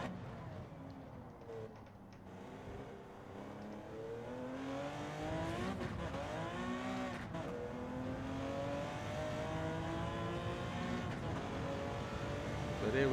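A Porsche 917K race car in Gran Turismo 7 at Spa roars continuously, its engine note climbing and dropping through gear changes and revving, steady and moderately loud.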